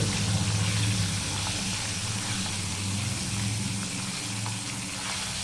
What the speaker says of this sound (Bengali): আমি ইলিশ মাছগুলো এভাবে হালকা করে ভেজে নিচ্ছি